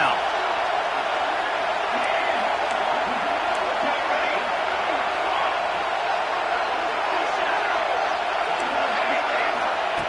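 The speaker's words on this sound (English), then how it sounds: "The crowd elevating its energy, willing this defense to get a stop on this big third down" Football stadium crowd at an Ohio State versus Arkansas game, a dense, steady roar of cheering and noise building on a big third down, heard continuously under a commentator's voice.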